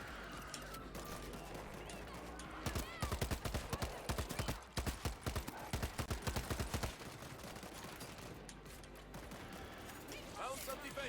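Machine gun fire in World War Z Aftermath, a zombie shooter game, rattles in a rapid sustained burst over several seconds amid game noise, with a voice talking over it.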